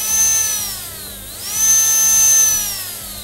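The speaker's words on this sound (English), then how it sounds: "the motor starts spinning. So now with the potentiometer, you can reduce the speed as this, from 0 to the maximum" A brushless motor driven by an Arduino and ESC spins with a high whine that drops as the potentiometer slows it, then rises back to full speed, loud and close with no talk.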